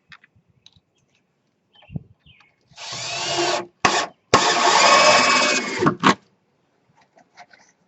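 A power drill drives fasteners into the bottom of a wooden floor joist during floor framing: two sustained bursts of loud whirring and grinding, split by short pauses and followed by a brief spurt, with a few light taps before and after.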